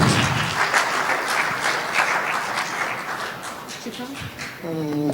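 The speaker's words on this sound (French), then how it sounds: "Merci d'applaudir pour eux" A crowd at an end-of-year graduation ceremony for foreign students in Bejaia claps steadily for several seconds, with a voice talking over the applause near the end.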